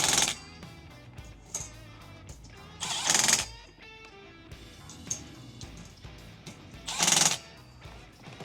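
Bolts being tightened with pliers on a BuiltRight Industries seat-back MOLLE panel inside a Ford F-150 Tremor cab, giving a few short metallic clicks and ratcheting bursts separated by quieter pauses.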